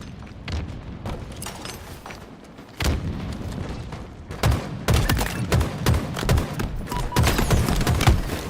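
Gunfire and explosive booms from the video game Halo at a competitive HCS event in Arlington, dense bursts of shots and thumps layered continuously over the whole stretch, close and loud, with a faint voice underneath.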